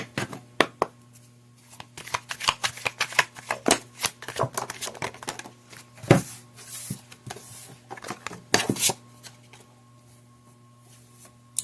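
Higher Love oracle cards being shuffled by hand in an irregular run of close, papery flicks and soft slaps, with a steady low hum behind them.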